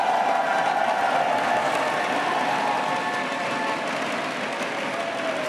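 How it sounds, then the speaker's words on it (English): A large crowd at the Worlds 2024 esports event in Berlin breaks into sustained applause and cheering, loud and dense at first and gradually tapering. "Berlin, please, one round of applause for them."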